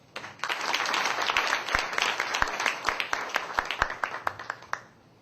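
An audience at a church camp forum applauds steadily for about five seconds, a wash of clapping with a few sharper individual claps standing out near the end before it fades.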